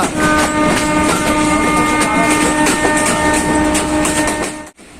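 A train between Khulna and Gadkhali rattles steadily along the rails, with rhythmic clacking over a constant rumble and a faint whining tone, loud and close, easing off briefly at the end.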